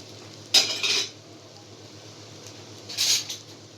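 Hot broth is added to warm rice for an Egyptian fatta made without meat, with two short bursts of clinking and splashing against a pot, separated by a quiet pause.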